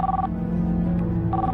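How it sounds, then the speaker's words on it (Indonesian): A home telephone rings late at night with two short electronic ring bursts separated by about a second of pause, heard over a low, steady background hum in a quiet room. "Siapa sih telepon malam-malam?"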